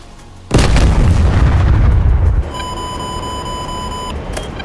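Bomb explosions in a flight combat game, a sudden loud roaring blast that rumbles for about two seconds, then a steady electronic warning tone over lower engine noise.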